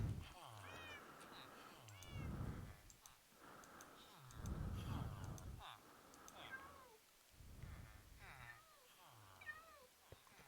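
Cats in vanilla Minecraft give several short meows at intervals, quiet and close, while someone talks over them.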